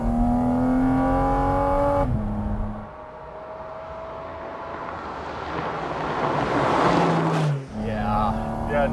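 Porsche Cayman GT4 RS flat-six engine and intake roaring right behind the cabin on a test drive, loud revving with a gear shift, a stretch of rushing wind and throttle-lift, then the engine note climbs again.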